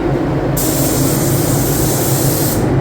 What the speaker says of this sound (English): I'm going to spray sealer wherever I have primer only.